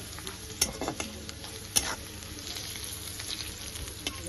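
Onions frying with salt and turmeric are stirred in a pan: a soft continuous sizzle with a few sharper scrapes and clinks of the spoon against the pan, fairly quiet and close, with no voices.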